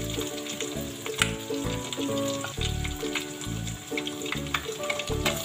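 Surabaya-style fried noodles with soy sauce, tomato sauce and chili sauce sizzle and crackle in a pan, with the rhythmic clanks and scrapes of stirring repeating steadily over the frying hiss.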